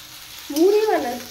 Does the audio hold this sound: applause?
no